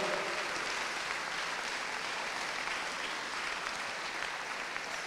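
Church congregation applauding the Lord at a worship service, a continuous wash of clapping heard at a modest distance with no pauses.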